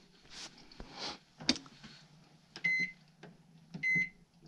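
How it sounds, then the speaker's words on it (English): A microwave oven hums as it heats plastic fishing baits, its low drone broken by two bright beeps near the end, with faint clicks and background noise earlier. "we'll just heat them in the microwave for like 30 seconds"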